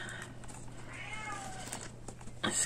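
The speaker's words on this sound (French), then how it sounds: "un chat qui commence à gueuler." A cat meows loudly in one long drawn-out wail with a rising and falling pitch, heard a little distant over a low steady hum, with a short rustle near the end.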